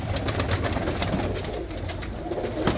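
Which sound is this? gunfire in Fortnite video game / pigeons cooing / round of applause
pigeons cooing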